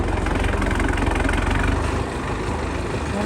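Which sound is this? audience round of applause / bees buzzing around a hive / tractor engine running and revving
tractor engine running and revving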